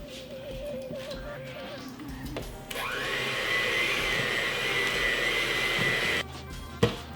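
An electric mixer whirs into a loud, steady high drone as it beats buttermilk pie filling, after a softer motor hum and brief voices, then cuts off near the end.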